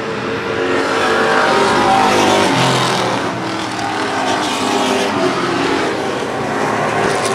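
Race cars roar around the track in a Super Street 100 stock car race, a loud, sustained wall of engine noise from several cars at once that swells and eases slightly as the pack passes.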